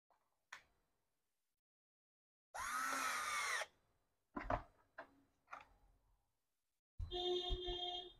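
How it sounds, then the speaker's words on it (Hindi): Small thin screws driven into a 6V kids' battery-powered ride-on toy jeep, with a close power-driver whir lasting about a second, then scattered clicks and knocks and a second short motor run at the end. "एक एक दो छोटे वाले पतले स्क्रू लगाने हैं अपन को"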